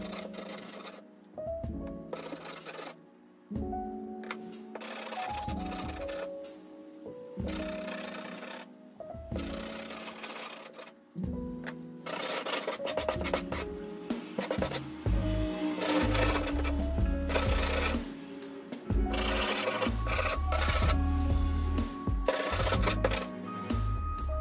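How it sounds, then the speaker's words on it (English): Hand-sanding the edges of freshly cut wooden mirror-frame pieces, heard as repeated bursts of scratchy rubbing with short pauses between strokes, growing steadier and louder toward the end. "we are going to sand down the edges to make them smooth"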